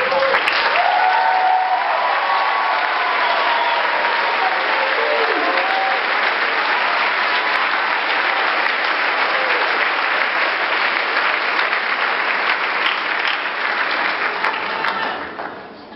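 Sustained, loud applause from a large audience at a university nursing pinning ceremony, a broad even roar of clapping that holds for about fifteen seconds before starting to fade, with faint voices mixed in.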